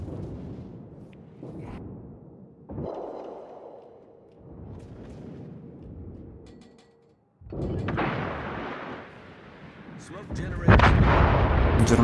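Rapid bursts of warship secondary guns firing in World of Warships, a German battleship's secondaries pounding away in loud clustered volleys with brief lulls, then a heavier barrage near the end, with faint voices under the blasts.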